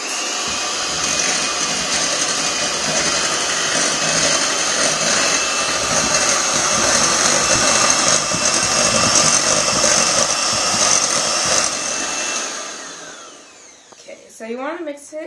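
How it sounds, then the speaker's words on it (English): An electric mixer beats lemon bar filling on high, a steady loud whirring drone that holds for about twelve seconds before winding down, followed by a few light clinks. "Then we'll use an electric mixer and beat on high for about 3 minutes."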